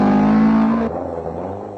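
A Datsun rally car competing in the Safari Rally passes close by, its engine note loud and rasping, then abruptly dropping in pitch and volume as it moves away.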